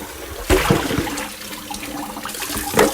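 Tap water running and splashing while a bowl is rinsed at a kitchen sink, a steady close wash with a few sharper splashes and clinks.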